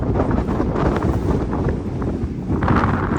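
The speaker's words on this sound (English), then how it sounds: "there's always a breeze coming off that glacier." Wind blows off a glacier in remote Alaska, a loud, steady, rushing roar that buffets the microphone without pause, close and continuous with no voices.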